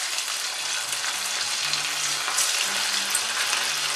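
Sabudana vada patties frying in preheated pure ghee or peanut oil, a steady, even sizzle and crackle at moderate volume with no pauses, only faint background hum beneath.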